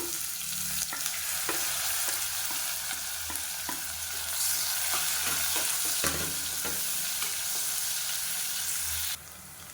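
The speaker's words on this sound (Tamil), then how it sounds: "பொடியாக நறுக்கிற வெங்காயம் வந்து ஒரு கைப்பிடி அளவுக்கு சேர்த்துக்கலாம்" Finely chopped onions sizzle and crackle steadily in hot oil, with occasional scrapes of a spoon stirring the pan, close up and without speech.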